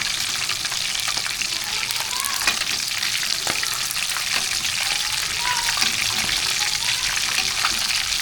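Steady, dense sizzling and crackling of chicken deep frying in hot oil, close and continuous, with occasional scraping clinks.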